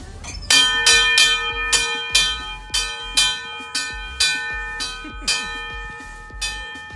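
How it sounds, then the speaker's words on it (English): A bell is rung repeatedly in an open public spot at Yokohama Red Brick Warehouse, about ten bright clanging strikes at an uneven pace, each ringing out and overlapping the next, close and loud. "So ring the bell of happiness."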